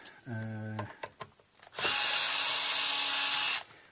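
A power drill or electric screwdriver whirs steadily for about two seconds, backing out pickguard screws on a Stratocaster copy electric guitar, preceded by a brief voice and small handling knocks.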